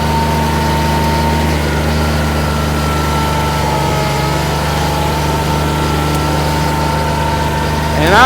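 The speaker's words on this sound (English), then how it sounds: "Just keep in mind I've got a 23 horsepower tractor here." A 23 horsepower compact tractor engine runs close by at a loud, steady drone, holding an even pitch throughout with a slight rev-up at the very end.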